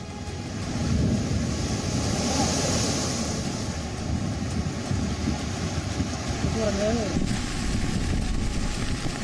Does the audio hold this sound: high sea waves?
yes